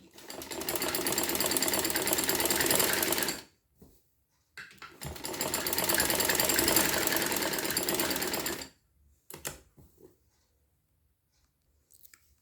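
A sewing machine stitching the side slit of a kurti runs in two loud, steady bursts of rapid needle chatter, each several seconds long, separated by a short pause and followed by a few faint clicks.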